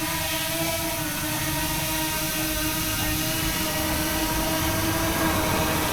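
A Potensic Atom 2 quadcopter drone hangs overhead with a steady, droning motor whine and high buzzing tone, constant and fairly loud throughout, with no voices.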